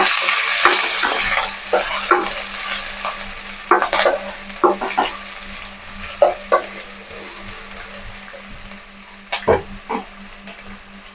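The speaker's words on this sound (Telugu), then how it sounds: "ఇది కొంచెం ఫ్రై అవ్వాలి." Tomato rice ingredients frying in a pan, with a steady sizzle and repeated sharp scrapes and clinks of a spoon stirring against the pan, close up and fairly loud, no voices.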